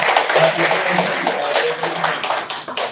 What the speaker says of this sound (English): So it's a clap for all of them.